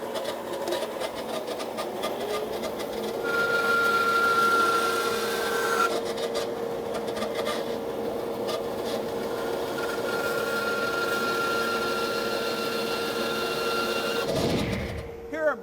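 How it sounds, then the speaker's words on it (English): A bandsaw with a resaw fence runs steadily, cutting chair verticals down to width for an outdoor chair, a continuous hum and whine with cutting noise that ends in a short clunk. "Here I'm bringing up the fence on the bandsaw, and I need to cut down the verticals to 2 3/4 inch finish width"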